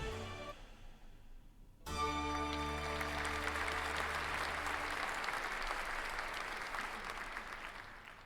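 Applause in the video game Sucker for Love: Second Date, a few soft tones, then a sudden burst of dense crowd clapping that stays steady for several seconds before slowly thinning out under a lingering musical chord.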